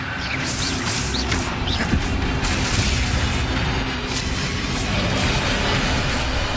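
Incendio fire spell cast in Hogwarts Legacy video game, a dense roaring, crackling rush of magic fire with repeated booming impacts layered over steady battle noise, loud and close throughout.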